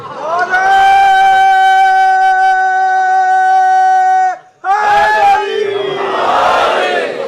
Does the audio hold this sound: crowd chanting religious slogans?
yes